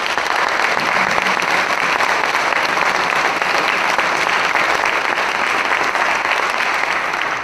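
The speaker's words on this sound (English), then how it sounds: "Let's give our candidates a big round of applause." An audience at a Hattiesburg Ward 4 candidate forum applauds the candidates, a loud, dense and continuous wash of many hands clapping that lasts the whole stretch with no talk.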